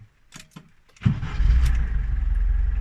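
Lada Niva engine with a modified carburetor: a few faint clicks, then the starter catches after about a second and the engine settles into a loud, steady close-up idle.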